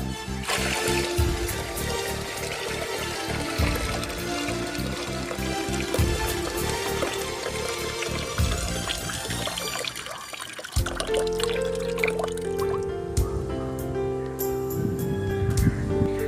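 Water poured over fish while preparing a Kanyakumari-style fish curry, a steady close splashing and trickling that runs throughout, with the tone shifting partway as the vessel fills.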